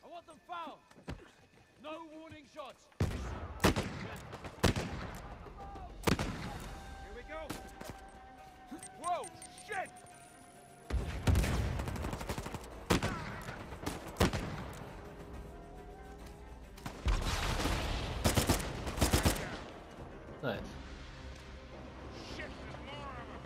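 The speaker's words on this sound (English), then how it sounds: "I'm gonna just start shooting." Gunfire in the action video game Uncharted, sharp bursts of shots and impacts in several loud clusters separated by quieter game ambience.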